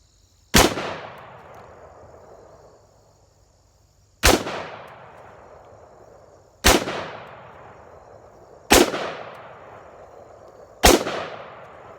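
Five single gunshots fired offhand at a board 15 yards away, sharp loud cracks spaced two to four seconds apart, each trailing off in a ringing echo, with no talking.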